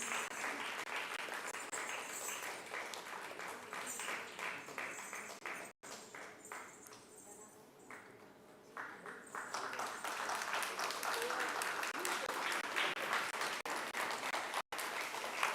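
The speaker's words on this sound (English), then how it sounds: "A huge round of applause," Audience applauding a winner at a national Odissi dance competition, sustained even clapping that dips briefly in the middle before swelling back, loud and continuous.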